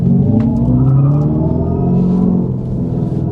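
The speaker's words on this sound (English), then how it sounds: "Let's try it under low. Let's give it some accelerator." Synthetic exhaust sound from a Dodge Charger Daytona electric car under acceleration in low mode, a loud, close, droning engine-like rumble with layered rising tones that eases off slightly toward the end, with no talk.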